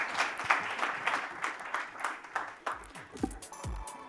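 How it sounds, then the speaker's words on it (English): Audience applause at an awards ceremony during a business summit, a sustained patter of many hands clapping in a hall, moderately loud and fading slightly toward the end. "Ladies and gentlemen, a big round of applause for Baba Kalyani and Bob Pragada."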